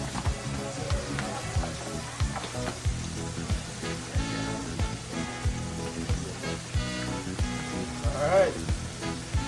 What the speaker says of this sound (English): So pork chops are on the fire